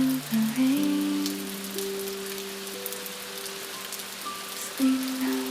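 Steady, soft rainfall hisses in the background beneath sustained, gentle tonal music, with no talking.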